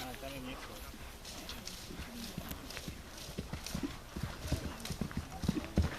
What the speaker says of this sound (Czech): Jediný kůň, který si přeskakuje.